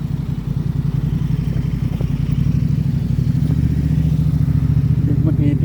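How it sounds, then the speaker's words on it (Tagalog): A motorcycle engine drones loudly and steadily throughout, as if the bike is passing close by on a street in Oslo. "Tumigil, motor yun ha."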